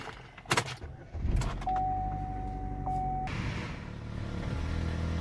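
A car engine turns over and catches after a short electronic chime, settling into a steady, rumbling idle.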